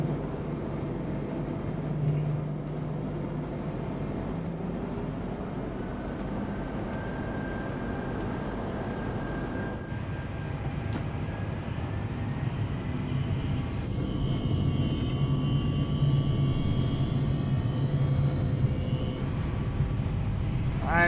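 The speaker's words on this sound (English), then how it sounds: "Let's hear the engines here." Engines of an Airbus A340-600 spooling up on takeoff in the X-Plane 11 flight simulator, with a steady broad roar and rising whine that hold for the whole stretch and swell slightly toward the end.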